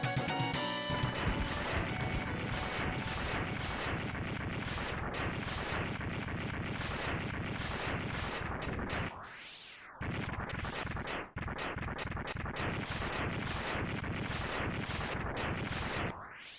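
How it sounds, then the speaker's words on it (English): Explosions in the Super Nintendo game Mega Man X3, a dense, continuous barrage of loud crashing blasts with a sweeping whoosh midway, relentless and full throughout. "Good job, Super Nintendo Explosion."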